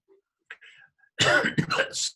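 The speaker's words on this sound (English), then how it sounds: "That's not a coronavirus cough." A close, sharp cough bursts out after a few faint small throat sounds, followed by a rougher throat-clearing rasp.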